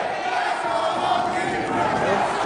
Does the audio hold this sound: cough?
no